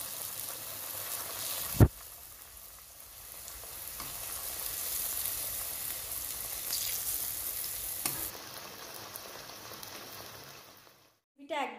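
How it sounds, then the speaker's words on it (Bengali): Dal puri sizzle and fry in hot oil with a steady, bright crackle throughout, broken by a sharp clatter of a utensil early on and a few softer scrapes. "এরমভাবে সবগুলো ভেজে নিতে হবে।"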